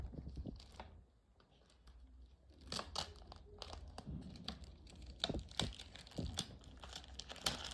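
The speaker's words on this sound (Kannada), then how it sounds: "ಒಂದು ನಿಮಿಷ ಗೈಸ್, ಅದು ಟೇಪ್ ಬಿಚ್ಚಿಬಿಡ್ತೀನಿ" Tape being peeled off a homemade medicine package, bursts of close crinkling, tearing and crackling plastic sounds in uneven spurts after a brief quiet moment, with faint speech in the background.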